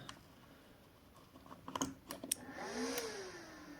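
A few faint, sharp relay clicks sound in quick succession in a PowMR hybrid inverter cooling system, then a fan motor hums and whines as it spins up, heard quietly and alone.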